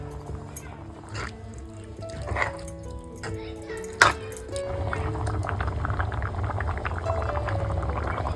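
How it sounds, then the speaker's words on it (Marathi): A pot of clam curry bubbling at a boil, with a steady low simmer throughout, a few sharp clinks near the middle, and someone talking over it. "इकडे ना आपल्या कालवाना मस्त एक कड आलेला आहे"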